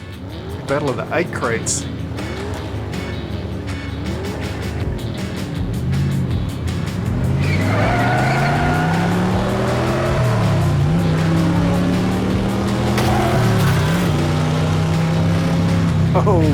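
Diecast toy cars race down a canyon street-racing track, with a continuous loud rolling rumble and whirring that rises and falls as the cars run, under excited commentary throughout.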